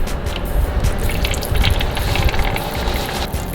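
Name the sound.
engine oil spilling from Nissan 350z oil filter into drain pan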